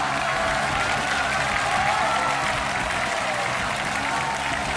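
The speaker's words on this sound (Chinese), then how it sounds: "掌声有请" A TV studio audience applauds to welcome a contestant onto a Chinese game show stage, a dense, even wash of clapping that holds at full strength throughout.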